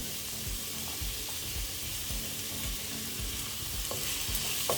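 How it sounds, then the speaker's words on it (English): Shrimp fried rice with carrots and corn sizzles steadily in a hot pan, with a continuous loud frying hiss and rhythmic stirring scrapes and taps throughout, no talking. "Just fry for a few seconds."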